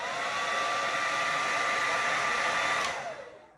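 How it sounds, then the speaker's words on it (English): A hair dryer runs at steady, loud volume throughout, blowing to warm an eyelash curler from the brand Cala during makeup, then winds down and fades near the end. "I'm going to hit it with my blow dryer."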